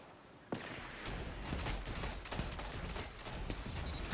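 Rapid bursts of gunfire from several weapons in a first-person shooter game, with sharp reports and crackling repeating shots layered over a continuous din, close and loud throughout.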